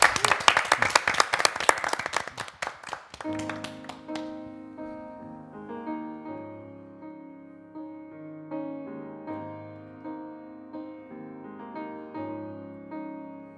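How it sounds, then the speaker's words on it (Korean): In a church service, the congregation claps in a quick, dense burst for a few seconds before it gives way to a sustained sung or played musical passage. "우리 박수로 우리 찬양 듣도록 하겠습니다."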